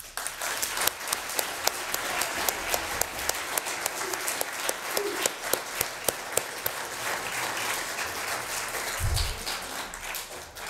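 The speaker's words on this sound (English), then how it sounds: "I think they deserve another round of applause." Sustained applause from a school audience at a fine arts awards assembly fills the space, with steady clapping throughout and a brief low thump near the end.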